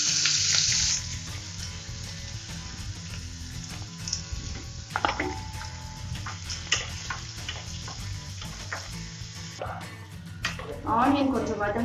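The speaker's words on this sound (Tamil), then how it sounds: "சோம்பு பொரிஞ்சதும் இந்த வெங்காயத்தை போடணும்." Onions frying in hot oil with fennel seeds make a steady, moderate sizzle, dotted with utensil clicks and stirring knocks, while a voice talks over it; a bright crackle rises near the end.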